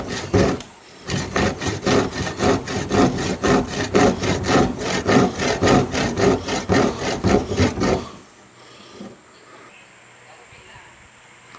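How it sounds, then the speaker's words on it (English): A hand saw cuts through the steel lid of a 55 gallon drum in fast, even back-and-forth strokes, loud and rasping, then stops and leaves quiet room sound. "I would like to try it myself to cut the lid off 55 gallons by using just a hand saw"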